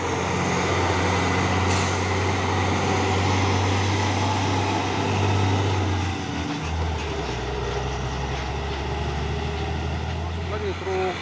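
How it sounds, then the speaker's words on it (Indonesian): A trailer truck strains uphill on a steep incline, its engine droning in a heavy, low rumble that shifts pitch midway as it labours, loud and close with continuous mechanical noise. "Lagi truk trailer Isoten ini ya."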